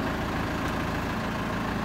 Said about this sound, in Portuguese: Nossa, aceleradinha nela.